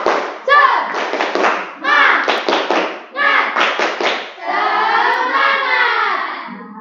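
A class of children, joined over an online video call, claps in quick rhythmic bursts of several beats each, pausing between rounds, then finishes with a loud group chant.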